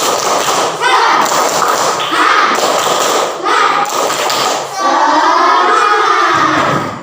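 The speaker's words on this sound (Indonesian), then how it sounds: "Tepuk semangat." Schoolchildren in a classroom perform the tepuk semangat spirit clap, with loud rhythmic claps and thumps in bursts mixed with their chanting voices and short pauses between phrases.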